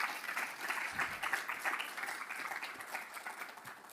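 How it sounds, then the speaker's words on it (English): An audience applauds a panel with steady, dense clapping that holds at an even level for several seconds. "if we can give a round of applause for our wonderful panelists"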